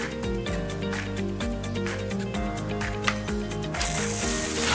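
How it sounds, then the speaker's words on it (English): Music plays throughout, and near the end a strong hiss of water spraying from a garden hose bursts in over it, pressure-washing the gel off fermented tomato seeds. "I'm pressure spraying these with a garden hose to remove the gel."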